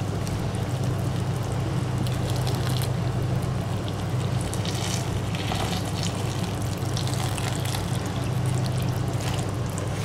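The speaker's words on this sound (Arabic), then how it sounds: "اخر شي راح نحط اللي هو مية" Water pours steadily into a pot, a constant splashing hiss with a low resonant hum underneath, continuous for about ten seconds.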